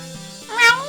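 Kittens meowing in the video game Arcade Spirits: a close, clear meow that rises sharply near the end over a soft tonal music bed, with no talking.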